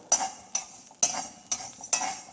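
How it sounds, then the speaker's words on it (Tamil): Salt is dry roasted in a pan while preparing sambar podi, heard as five sharp, regular scraping strokes of a utensil against the pan, close and clear with no talk. "உப்பு வறுத்து அந்த தட்டில் போட்டுடலாம்"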